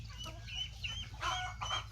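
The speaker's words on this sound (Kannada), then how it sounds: "ಎಲ್ಲ ಕೋಳಿಗಳ ಜೊತೆ ಬೆಂಕಿ ಕೋಳಿ, ಟರ್ಕಿ ಕೋಳಿ, ಬಾತು ಕೋಳಿಗಳೆಲ್ಲ ಹೊಂದ್ಕೊಂಡೈತೆ" Chickens cluck in a mixed yard flock that includes turkeys and ducks, short overlapping calls coming in bursts over a steady low background hum, fairly close and moderately loud.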